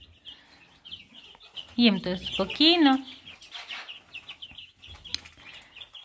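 Chicks in a warm stable shared with two cows and a calf give two bursts of sharp rising peeps and clucks midway, with someone talking quietly before and after.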